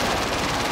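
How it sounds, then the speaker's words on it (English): Gunfire in Call of Duty on Rebirth Island: a brief, dense burst of rapid shots with loud, rumbling low end, no voices. "Taking fire."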